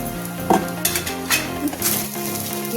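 Curry leaves sizzle hard in hot oil, a loud crackling hiss broken by stirring scrapes and a light clink of a pan, up close with no talk.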